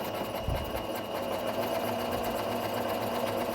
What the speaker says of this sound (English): We're at the sewing machine, and we're going to be stitching at a 5/8 seam allowance.